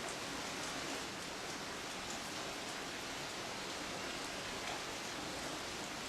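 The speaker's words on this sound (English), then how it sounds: "Then it begins to rain." Steady rain falls in an Alpine mountain valley as an even, faint hiss with no breaks or other sounds.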